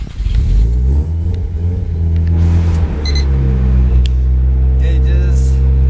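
A Mazda RX-7 FC drift car fires up with a brief cranking burst, then settles into a loud, close, throbbing rumble with a couple of quick revs on top.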